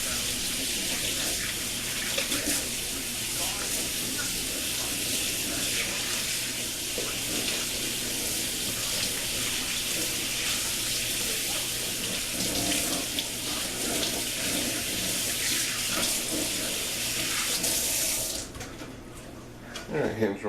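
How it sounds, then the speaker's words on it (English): Water runs steadily from a kitchen tap as hands are washed with dishwashing liquid, a continuous close splashing rush that stops abruptly near the end. "First of all, of course, I'm going to wash my hands."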